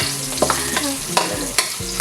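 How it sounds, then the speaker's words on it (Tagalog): Onions and garlic are sautéed in cooking oil for adobo, with a spoon stirring and scraping the pan in several distinct strokes over a steady background sizzle. "nagigisa po siya ng mantika"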